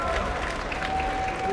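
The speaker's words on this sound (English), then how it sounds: "I've got a bigger round of applause for Vince Knight, our cinematographer." Audience applause at a live panel event, a short dense wash of clapping with voices mixed in underneath.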